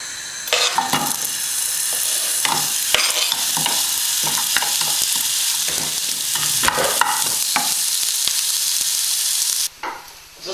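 Onions sizzle loudly and continuously on a hot barbecue grill, cooked until charred, with repeated scraping and stirring strokes of a utensil on top, then a short break near the end.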